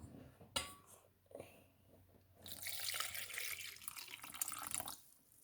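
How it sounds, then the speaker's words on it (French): Water poured into a bowl while making a frozen treat for a dog, a faint pouring splash and trickle lasting a couple of seconds after a few soft clinks of kitchenware, quiet and close. "Alors vas-y, ensuite, donc l'eau. Hop, tu peux verser dedans."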